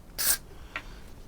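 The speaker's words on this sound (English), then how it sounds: "Maybe just a spray of deoxit in there." DeoxIT contact cleaner sprayed into a switch on a Philips BX02A radio made in Belgium: one strong quarter-second hiss, then a much shorter, fainter puff, both close up in a quiet room.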